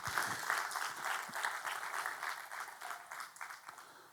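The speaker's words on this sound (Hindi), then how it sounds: "आइए तालियों के साथ हम उनका स्वागत करें।" A church congregation claps in welcome of guests at a Sunday service, a steady dense wash of applause holding throughout at moderate level, with no voices rising above it.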